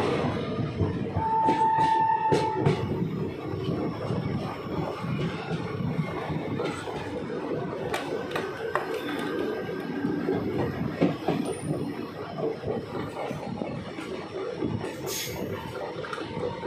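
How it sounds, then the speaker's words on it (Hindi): The Ambala–Delhi Intercity Express (14522) rolls into Khatauli railway station, a steady rumble of wheels and carriages with clicks, clanks and faint squeals running continuously for several seconds. "train is arriving at Khatauli railway station"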